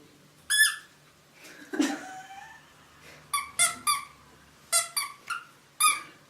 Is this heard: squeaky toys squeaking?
yes